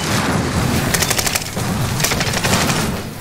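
Rapid automatic gunfire from an SMG in the video game Warzone Pacific, two dense bursts of close, loud shots over a constant rumbling battle background.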